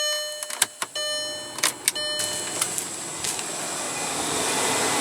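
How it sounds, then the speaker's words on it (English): Radiator cooling fans on a Volkswagen spin up and run in a steady whirring hum that builds gradually, near and moderately loud, with a few sharp clicks and knocks early on and no talking. "So our fans are both spinning."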